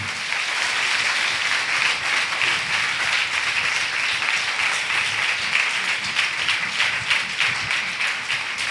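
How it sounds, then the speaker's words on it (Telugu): A church congregation claps hard together during a Monday sermon, a loud and unbroken wash of applause that stays level from start to finish with no voices rising above it. "గట్టిగా చప్పట్లు కొట్టండి"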